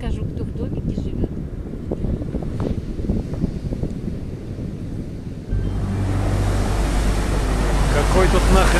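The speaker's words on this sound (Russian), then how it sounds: "Такие волны вообще." Strong ocean waves at Tangalla Beach, Sri Lanka, are heard with gusty wind buffeting the microphone. The surf swells into a loud, continuous roar of breaking water in the second half.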